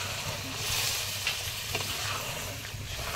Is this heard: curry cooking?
yes